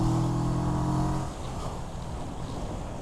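A motorcycle engine, throttle-blipped during downshifts, runs at a loud steady revving pitch, then drops to a lower rough idle-like rumble.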